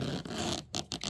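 A sturdy double zipper on a hard-shell art portfolio and drill storage suitcase is pulled open in several quick, close raspy strokes with brief pauses between them.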